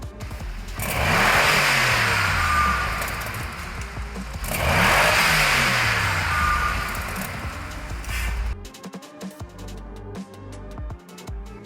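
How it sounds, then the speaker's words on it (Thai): A Bentley Continental GTC V8 revs twice, each rev rising to a loud roar and falling away, close by. The engine then settles to a lower, uneven idle with some clattery mechanical noise. "ผมอยากให้ฟังเสียง V8 หวานๆ คันนี้สักนิดหนึ่งไป เราไปฟังกัน"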